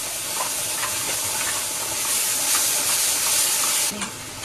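Onion tomato paste sizzles and hisses loudly in a pan with ginger and garlic, a dense, steady frying sound with faint stirring scrapes and a slight drop in intensity near the end.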